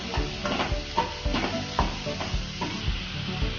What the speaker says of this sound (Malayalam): തീ ഓൺ ചെയ്ത് ഒന്ന് പതിയെ ഫ്രൈ ആക്കി എടുത്താൽ മതി.